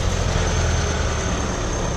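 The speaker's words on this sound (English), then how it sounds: "You can hear a bit of boost going on" A vehicle engine idles steadily just after starting, a dense continuous rumble with a faint whine of turbo boost riding on top, close and loud with no talking.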